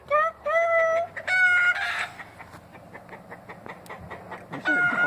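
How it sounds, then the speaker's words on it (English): Chickens and roosters cluck and crow repeatedly, loud and close, in a busy farmyard chorus, with long drawn-out crows at the start and again at the end. "Look at all these damn chickens and roosters."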